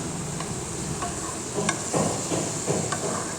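Curry frying in a pan sizzles steadily while a spoon stirs and scrapes in short, repeated strokes, close and clear, with no talking.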